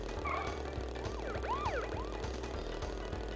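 Police car siren in the video game Crash Bandicoot: Warped, wailing up and down over a steady game soundtrack, moderately loud and without speech.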